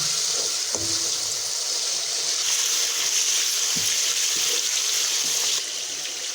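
Minced beef keema frying in a pan, a continuous hiss and sizzle with faint clinks of a utensil, steady and close, no talking.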